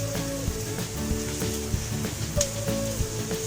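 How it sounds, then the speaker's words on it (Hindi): Garlic sautéing in butter, sizzling steadily and close throughout, with faint soft clinks of a utensil and a low tonal hum in the background; no voices. "इसको भी हम सौटे कर देंगे."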